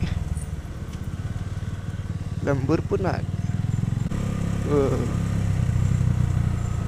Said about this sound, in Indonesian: Berisiknya motor ini, mesinnya gila habis coy.